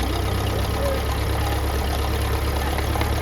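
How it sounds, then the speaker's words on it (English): A Ferguson TE20 tractor engine runs at a steady idle, with a continuous low rumble and a faint mechanical clatter. It sounds close and unchanging throughout, with no voices. "With the tractor back up and running"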